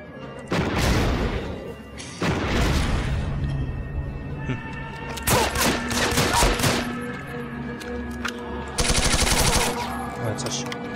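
Gunfire from the shooter game Blade of Agony comes in loud, rapid bursts of automatic fire and sharp shots. The volleys are separated by brief lulls and include a few heavier impacts.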